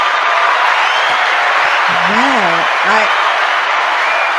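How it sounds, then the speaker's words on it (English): Dense, steady applause from a panel-discussion audience fills the whole stretch, fairly loud and close, with a person's brief exclaimed remark cutting through partway. "can we get a clap for that?"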